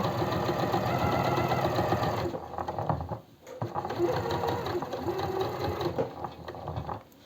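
A sewing machine stitches a blouse made from eyelet fabric, running in a steady mechanical whir that pauses briefly near the middle before resuming for another stretch.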